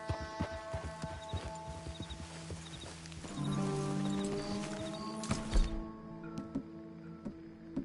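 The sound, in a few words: horse hooves clip-clopping in a video game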